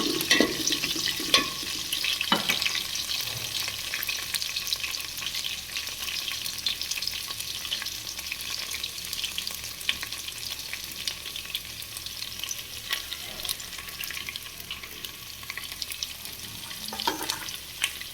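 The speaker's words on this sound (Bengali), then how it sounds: "পেঁয়াজটা ভাজা হচ্ছে।" Onions fry in a pan with a steady, dense sizzle that runs unbroken and close for the whole stretch, with faint stirring clicks and no voices.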